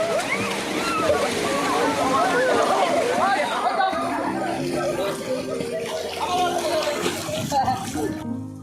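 Schoolboys splash and slosh about in water during swimming training at a Ramakrishna Mission school, with steady overlapping splashes under constant chatter, shouts and laughter from many voices.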